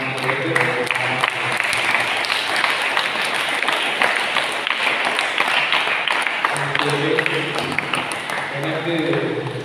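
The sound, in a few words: audience applause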